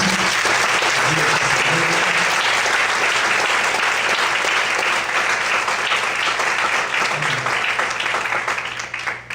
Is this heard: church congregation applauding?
yes